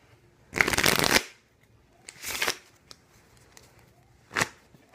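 Playing cards are shuffled up close in three quick riffling bursts, the first longest, separated by short quiet gaps.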